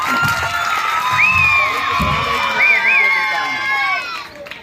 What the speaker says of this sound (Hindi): क्लैपिंग के साथ जी भरपूर तालियों के साथ।